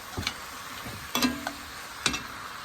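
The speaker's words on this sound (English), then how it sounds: "We're going to just let it fry down like this, you guys." Cabbage frying with sun-dried tomatoes in an uncovered pan gives a steady, soft sizzle, broken by a few sharp stirring scrapes and taps close by, with no talking.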